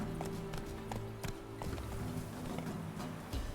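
Roach the horse gallops in The Witcher 3, hooves clip-clopping in a quick steady rhythm against game music and ambience.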